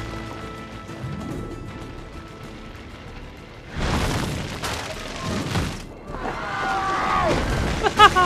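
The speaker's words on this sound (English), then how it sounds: "Probably just kids with firecrackers." Several loud booming firecracker bangs and crashes in the video game Assassin's Creed II burst out after a quieter stretch, the blasts coming in separate clusters, with some voices faintly underneath.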